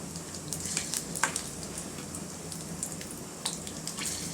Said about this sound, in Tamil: எண்ணெய் சூடாயிட்டுருக்கு இப்போ அதில் கொஞ்சம் சீரகம் போடுறேன் அப்புறம் மூணு பச்சை மிளகாய் போடுறேன்